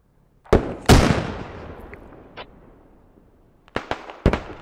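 Frag rockets and gunfire in the military shooter Squad, an opening burst of sharp blasts followed by a long rumbling decay, then two more loud cracks near the end.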